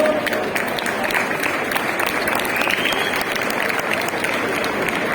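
Sustained applause from an audience at an auction of prize-winning Gamoneu cheeses, a steady dense wash of clapping lasting the whole stretch with faint crowd murmur beneath.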